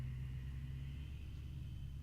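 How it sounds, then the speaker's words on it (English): A loud car outside produces a steady low rumble that holds constant throughout, heard from indoors with no talking over it. "There's a loud ass car outside."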